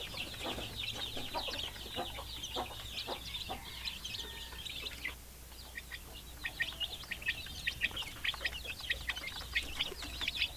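Young chicks about one month old and adult chickens on a small farm, fed unlimited feed, cluck and cheep continuously in a dense, steady chorus of overlapping high peeps with occasional louder calls, close by and alone without talk.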